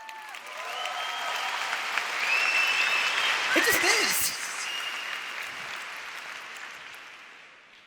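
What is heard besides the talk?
conference audience applauding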